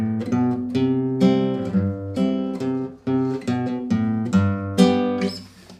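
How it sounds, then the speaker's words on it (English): Acoustic guitar strumming chords, with a walking bass run of single notes connecting them, played clearly and close with no voices. "Or it can be bass runs, notes that connect two chords together."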